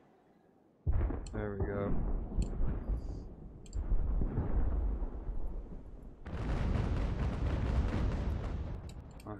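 Warship cannons firing grape shot in Ultimate Admiral Age of Sail at the Battle of Camperdown, a sudden loud blast followed by rumbling booming volleys and crackling, with someone talking briefly over it.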